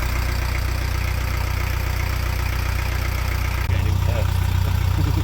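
A narrowboat engine idles steadily at close range, a constant low throbbing drone that shifts and grows slightly louder partway through.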